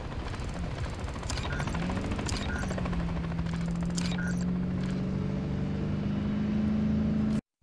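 A helicopter in the Call of Duty Modern Warfare 3 campaign gives a steady whirring drone with mechanical clicking and a low rising engine tone, loud and continuous, with no talk, then cutting off abruptly at the end.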